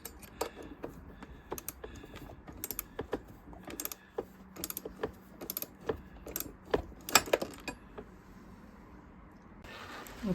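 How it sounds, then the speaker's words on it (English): Tightening a bolt on a Denali auxiliary light mounting bracket on a 2017 Honda Africa Twin motorcycle: irregular small metallic clicks and ratcheting taps, close and quiet, scattered across the clip with pauses between. "We're just going to tighten up that bolt"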